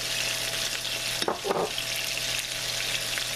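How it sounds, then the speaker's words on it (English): Chicken pieces brown in a hot pan with a steady close sizzle and crackle, briefly interrupted by a couple of louder stirring or shifting sounds in the middle, no talking. "we're going to brown them on one side, and we're going to flip them over"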